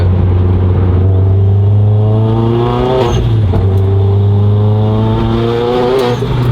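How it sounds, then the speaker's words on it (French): A loud Renault Mégane RS engine revs and climbs in pitch with turbo boost, dips briefly as it shifts, then pulls hard again with a rising whine, heard from inside the car on a rough road. "on va faire charger le turbo"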